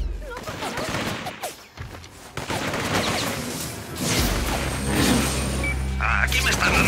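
Rapid bursts of gunfire crackle through a chaotic Infamous 2 street fight, dense and overlapping with rumbling engine-like noise and shouted voices beneath.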